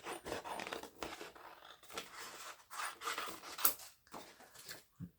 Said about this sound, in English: So I'm just going to cut out some of these.